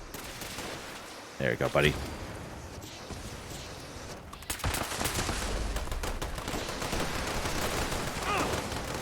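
Crusader pistol with a pyro effect firing in Fallout 76: sharp shot bursts crackle through a dense, noisy game soundscape, with a brief spoken line early on.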